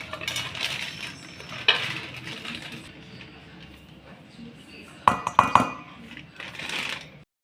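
Bowls handled while measuring wheat flour for masala puri, a few sharp metallic clinks and taps of a steel bowl near the middle and end, close, with someone talking throughout.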